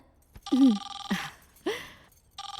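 A telephone ringtone chirps in short repeated bursts, a few warbling tones separated by brief pauses, fairly close and clear.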